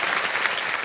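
A studio audience on a TV quiz show breaks into brief, full applause for a guest colonel, a dense, steady burst of clapping lasting under a second.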